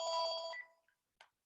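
A landline telephone in a home rings with a bright, buzzing electronic tone for about half a second, fades out, then gives one more short chirp after a pause. No one speaks over it.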